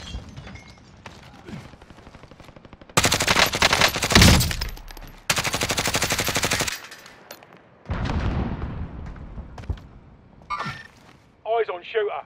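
Enemy gunfire in a battle royale shooter comes as loud sustained automatic bursts in several long stretches, with game voice callouts and other combat noise in between.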